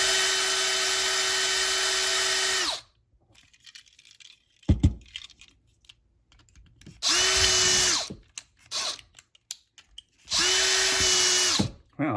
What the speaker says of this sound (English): We're going to drill out this rivet here